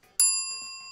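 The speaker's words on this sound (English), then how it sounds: "Here's my other bell." A second small bell gives one bright, clear ding close up, its pure ringing tone holding and slowly decaying after a brief quiet moment.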